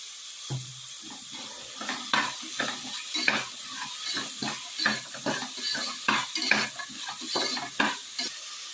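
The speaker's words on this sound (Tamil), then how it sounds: "காய் வந்து அப்படியே ஒரு 5 நிமிஷம் நல்லா வதங்கட்டும்" Mixed vegetables with salt sauté in a pan for veg pulao, the spoon scraping in repeated, uneven strokes over a constant crackling sizzle, close and moderately loud.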